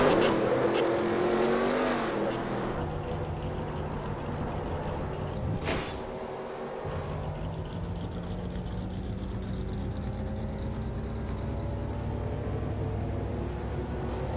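A race car in the NR2003 racing game at Sonoma roars off track through sand, its engine note rising and falling with steady mid-level revving and one sharp scraping burst.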